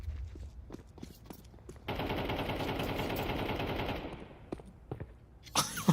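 Pistol gunfire in a Counter-Strike match, beginning with a few sharp isolated shots, then a dense rapid burst of firing lasting about two seconds, followed by more scattered shots and footsteps.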